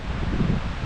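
Wind blows across a mountain trail on a hike up Mount Success in New Hampshire, a brief rushing gust that buffets the microphone with a low, rumbling roar.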